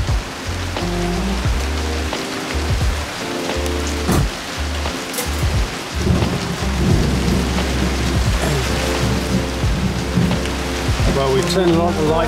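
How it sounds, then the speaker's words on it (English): Severe thunderstorm over the Queensland coast heard from aboard a sailing catamaran, heavy rain pounding on surfaces throughout with repeated rumbling thunder rolling in, loud and close, no voices. "we've got a severe thunderstorm and lightning at the moment"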